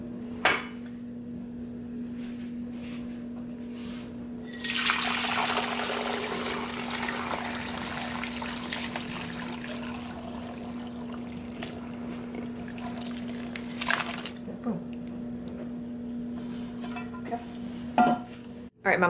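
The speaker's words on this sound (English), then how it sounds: "next we're going to just pour the broth and the rest of the stuff through a strainer" Broth and solids from a bone broth are poured through a strainer into a big bowl, a rushing liquid pour lasting several seconds, with clinks of metal and dishes before and after and faint background hum.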